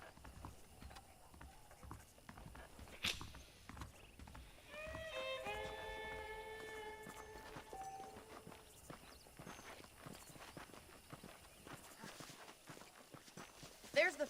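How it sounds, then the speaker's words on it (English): Horse hooves clip-clopping at a walk in the Red Dead Redemption video game, a steady faint rhythm of hoof falls under outdoor ambience, with a brief musical chime in the middle and no talking. "The horses are saddled up over here."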